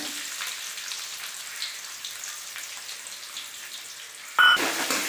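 Onions softening in hot oil while red aval upma is being made, a soft sizzle under low background noise for most of the stretch, then a sudden louder burst of sizzling and clatter near the end.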